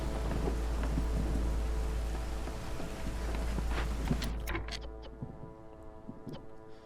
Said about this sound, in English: As we make our way into the storm.